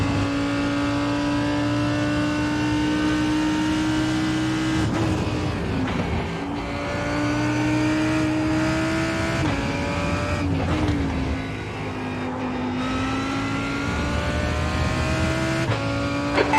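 Race car engines in an IMSA endurance racing video game at the Red Bull Ring, a continuous loud high-revving drone with shifting pitch as faster prototype cars bear down and pass, steady throughout with gear changes.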